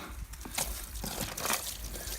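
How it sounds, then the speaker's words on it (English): Water runs and sloshes into a barrel holding heavy traps, a soft, uneven trickle with intermittent splashy bursts, fairly quiet and close. "I'm gonna get me some water going."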